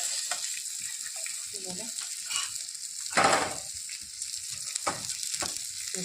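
Tilapia fish shallow frying on a tawa gives a soft, continuous sizzle and crackle nearby, with a few scraping turns and a louder flare of spitting oil midway.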